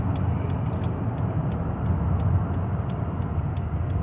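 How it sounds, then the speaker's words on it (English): A car driving on the road, heard from inside the cabin: a steady, loud low rumble of engine and tyres with faint regular ticking throughout, no voice. "As you can tell, I'm driving."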